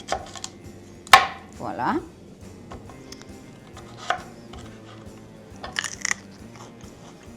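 A knife slices through a fennel bulb on a cutting board, making one sharp crisp crunch followed by a short scraping cut, then scattered faint knocks and clatter, with brief talk near the end.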